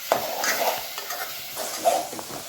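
Tomatoes sautéing in a pan for tomato rice: a soft sizzle sits under two or three brief scraping stirs of a spoon against the pan, close by, in a short stretch with no voices.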